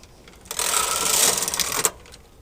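A domestic knitting machine carriage is pushed across the needle bed to knit a single row, a loud continuous whirring, clattering rasp lasting about a second and a half that ends with a sharp click at the end of the pass.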